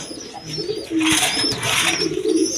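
A pair of chila pigeons sitting on two eggs coo in low rolling notes close by, joined by brighter chirping from other birds and some rustling noise.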